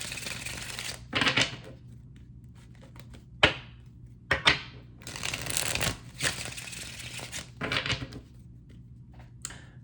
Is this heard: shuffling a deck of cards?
yes